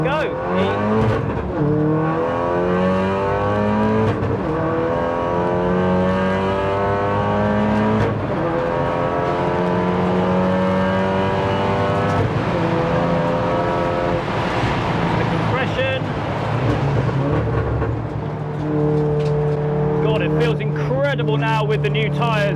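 A 500 bhp track-spec MK7 Golf R on fresh wider tyres lapping the Nürburgring, the engine droning and climbing through gear changes steadily and close, while a person talks over it.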